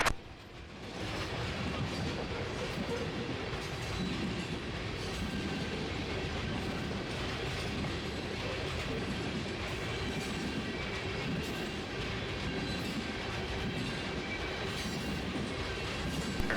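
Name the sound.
Canadian National locomotives passing through Kentucky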